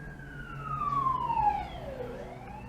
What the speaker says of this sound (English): that is a loud police siren